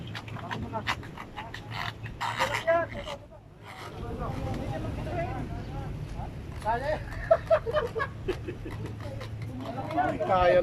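A fishing boat's engine runs steadily out on the water off Jeddah during a tuna-fishing trip, a low continuous drone under frequent close talk and movement noises.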